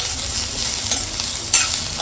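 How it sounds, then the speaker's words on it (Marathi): Dry masala roasts in a pan for green chicken, stirred with a spoon that adds a close, loud scraping over a dry, crackling sizzle, with one stronger scrape near the end. "असं सुका मसाला हां छान भाजून घ्यायचा."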